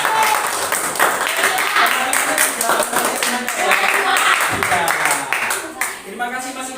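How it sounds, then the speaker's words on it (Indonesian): A sixth-grade classroom clapping for Mas Iwan, scattered hand claps mixed with children's voices and chatter, moderately loud and continuing throughout before easing off at the end. "Tepuk tangan buat Mas Iwan."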